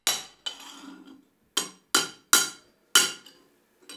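A hammer strikes a metal rivet while a wood plane is built on an old piece of railway track used as an anvil: six sharp metallic blows at uneven intervals, close and loud, alone.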